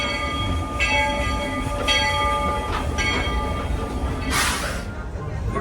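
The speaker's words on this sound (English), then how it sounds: "now we're gonna ride the railroad. You're gonna hear it." Disney World railroad train pulling out of Main Street Station, a steady rolling rumble with metallic squeals and clacks, a brief hiss or whistle burst near the end, heard alone at moderate loudness.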